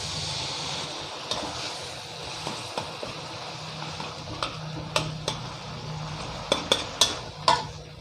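Minced pork with curry paste and a splash of rice-rinsing water stir-fried in a pan, a soft sizzle underneath with sharp taps of a spatula scraping and knocking the pan, the strikes growing more frequent toward the end.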